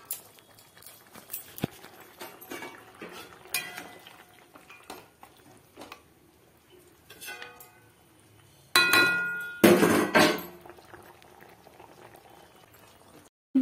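Mustard chicken gravy bubbling in a covered pot, a soft intermittent simmer with light clinks of utensils, then a loud burst of bubbling and lid rattle near the end.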